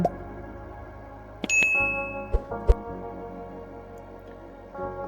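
A bright bell-like ding rings out, followed by a couple of sharp metallic clinks over a quiet hum, with no talking.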